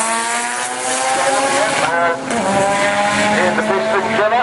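A street class drag race car launches at Santa Pod, its engine roaring loud and close with rising revs, a brief dip at a gear change, then climbing again, with a commentator talking over it.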